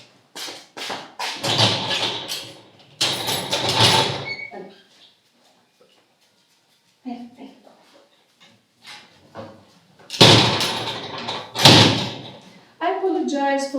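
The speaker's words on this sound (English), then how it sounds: "I apologize for the loud door. It's an old door and it makes a noise." An old, heavy door that needs force to open or close makes loud, close scraping and thudding bursts in two separate episodes, with quieter clatter and a woman's speech between them.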